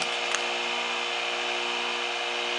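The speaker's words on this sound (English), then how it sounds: "what the sound you hear is the motor running right here" The vacuum pump motor on a Fryma deaeration mill runs steadily nearby, producing a continuous loud broadband whir with a steady hum, alone and without talk.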